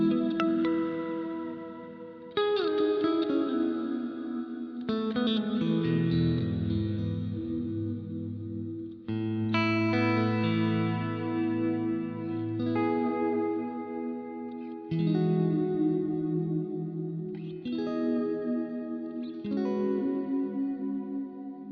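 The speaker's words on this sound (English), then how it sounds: "the next patch is a large hall type reverb. I've turned the effect level up quite a bit. I've added a little bit of modulation" Guitar chords ring out through a Boss RV-500 pedal set to a large hall reverb with added modulation and maxed density, each strum blooming into a long, lush, shimmering tail that overlaps the next across several spaced phrases.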